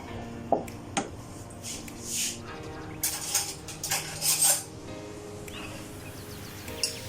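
Chicken haleem bubbling in a pot while being stirred, with soft scraping and clinks of the spoon against the pot, intermittent wet squelches and quiet bubbling, close and fairly faint.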